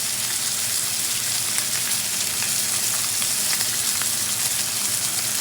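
Minced garlic sizzling alongside a dry-aged ribeye steak in a cast iron pan, a loud, steady, close frying hiss with no voices.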